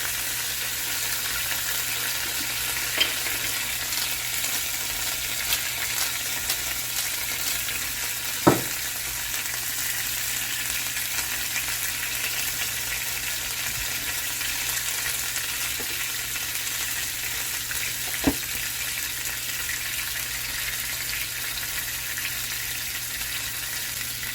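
Potato-crusted swai fillets fry steadily in a hot pan, a continuous close sizzle with soft crackle throughout and a couple of brief sharp clicks of utensils, no voices.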